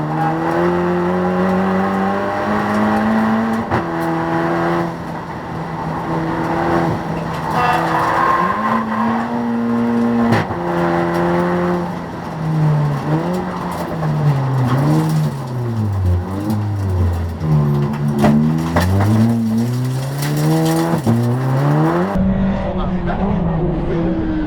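An Audi TT TFSI race car laps the Blyton Park track, its engine revving up and down through gear changes with loud rising and falling pitch, tyres squealing in places, close and dominant throughout before cutting off abruptly near the end.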